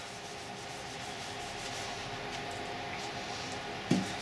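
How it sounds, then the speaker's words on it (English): Rubbing a coat of sealer onto a turning acrylic pen blank for a fountain pen: a soft, steady wiping friction over lathe hum, close and fairly quiet, ending in a brief sharp knock. "I thought it wouldn't harm to give it a wipe over with seal"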